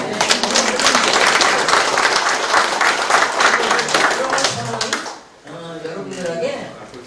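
Audience clapping at a town hall citizens' meeting in Sindun-myeon, Icheon: loud, dense applause for about five seconds under a voice, then dying away as he keeps talking.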